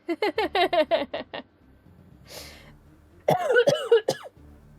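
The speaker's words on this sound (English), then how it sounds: "I'm so sorry if I keep coughing randomly." A rapid string of close coughs, then a quiet breath, followed by another short burst of coughing.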